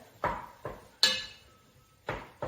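Bolognese being stirred in a pot, a spoon knocking and scraping against the metal in a few separate sharp clinks and scrapes, close and fairly quiet with no talk.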